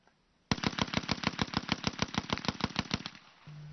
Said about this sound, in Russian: Пулемет «Виккерс».